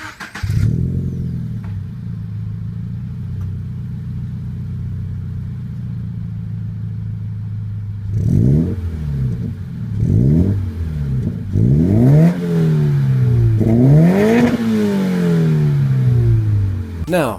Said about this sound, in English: This exhaust comes from the boys over at Borla and their S-Type catback exhaust system